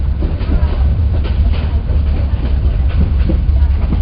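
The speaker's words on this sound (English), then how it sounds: "Here we are on the train from Shanghai, Lanley Lake to Yangon." Passenger train from Shanghai rolling along rocky rails, a steady low rumble with faint rhythmic clatter running throughout, close and continuous.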